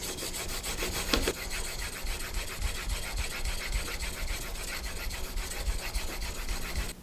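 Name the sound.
honing plane iron bevel on 1000 grit sharpening stone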